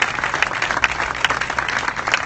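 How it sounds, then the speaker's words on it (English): A short burst of applause from a crowd, steady clapping with no voices. "They deserve a strong round of applause."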